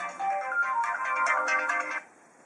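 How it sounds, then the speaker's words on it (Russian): A mobile phone chirps an SMS notification ringtone, a bright melodic tone sounding alone for about two seconds before cutting off to quiet room noise. "Конечно, еще должна была прийти смс-ка."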